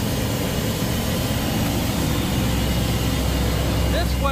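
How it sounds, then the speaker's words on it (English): A Mack truck engine runs steadily to drive the PTO on a water-well drilling rig, a constant low idling rumble that holds even throughout. "All I gotta do is fire up the Mack truck"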